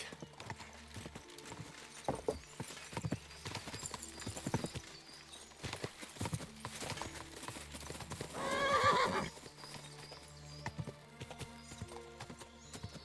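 Steady clip-clop of horse hooves trotting in the medieval video game Kingdom Come: Deliverance II, with a loud whinny about two-thirds through, over busy game-like background sounds.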